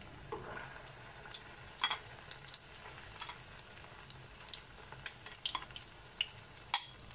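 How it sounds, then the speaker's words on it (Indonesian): Potato patties (bergedil) frying in hot oil, giving a steady low sizzle with scattered crackles and pops throughout, close and fairly quiet. "Saya goreng 8 saja ya."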